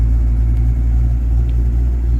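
An old 43-year-old Ford Mustang engine idles roughly and steadily, a low continuous rumble with a faint uneven pulse throughout, close by and with no voices.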